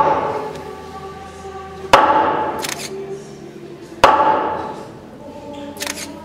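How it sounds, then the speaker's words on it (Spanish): Two sharp, resounding hammer blows drive a nail during a Holy Week crucifixion reenactment in Porto do Son, each ringing out loud and close and then decaying over a low, sustained musical drone. "Retumban los martillazos."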